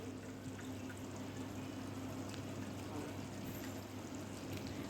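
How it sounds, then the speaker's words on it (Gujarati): Water drains off boiled spiny gourd (kantola) in a home kitchen, giving a faint, steady pouring trickle that runs unbroken under a low background hum. "કંટોલા બફાઈ ગયા છે તમે જોઈ શકો છો આવી રીતે આપણે પાણી નિતારી લઈશું"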